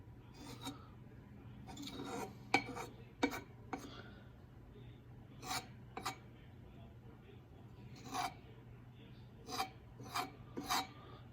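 Foam being skimmed off melting butter in a pan for clarified butter, heard as intermittent soft scraping and rasping strokes of a utensil against the pan over a low steady hum, with brief sharper scrapes spaced irregularly.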